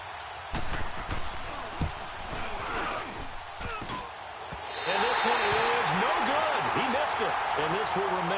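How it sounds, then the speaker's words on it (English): A football from a field goal attempt strikes a metal goal post with a sharp hollow clang, then a stadium crowd swells into a loud roar with voices. "that hollow metal sound is the bane of any kicker's existence"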